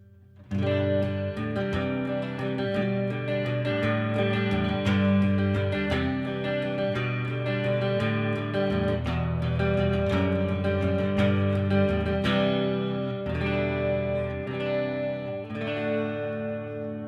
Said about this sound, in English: This is the neck pickup with the coil split.